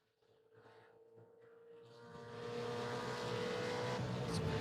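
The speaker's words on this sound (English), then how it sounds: "rumbling of the Fords and Holdens." Ford and Holden race cars at a Manawatu Car Club winter series round, engines rumbling and building in volume from a distance to a loud, sustained roar, with no talking.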